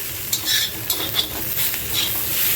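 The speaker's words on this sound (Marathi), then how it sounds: "ही चटणी ना आता सारखी अशी हलवत राहायची" Onion chutney is stirred continuously in a pan, giving soft scraping and clinking strokes with a light sizzle underneath, steady and close, with no talking.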